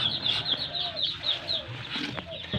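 Muscovy ducks of a jumbo hybrid breed in a farm pen, with repeated short high-pitched calls and clucking chatter close by, running in a steady stream over low background noise.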